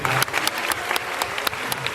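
A short burst of steady applause from a crowd, clapping densely throughout with a few sharper claps standing out.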